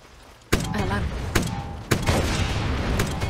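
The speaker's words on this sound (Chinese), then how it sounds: "换上我们的榴弹炮。" Grenade launcher fire in Far Cry 6 produces three heavy booming blasts spaced about a second apart, each followed by a rumbling wash of explosion noise that fills the mix.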